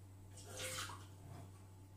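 Water is poured into the mixing jar of a Monsieur Cuisine Connect kitchen machine, a short soft splashing pour over a low steady hum, faint and without talk.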